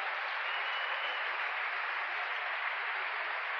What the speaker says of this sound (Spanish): Un aplauso al Señor, se vea, ¿no?